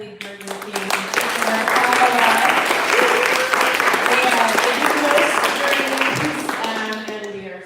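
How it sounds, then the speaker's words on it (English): An audience at a live evening show breaks into steady applause that swells and holds for several seconds before easing off, with a voice speaking over the clapping. "A round of applause for our incredibly hardworking"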